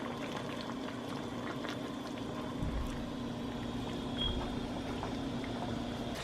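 A pot of Jamaican curry goat simmers quietly, a faint steady bubbling and hiss with a low background hum, no voices heard.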